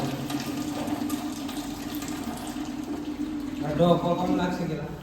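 Water runs from a tap while a metal cooking pot and a plate are washed, a steady trickle and splash that swells near the end, with people talking over it.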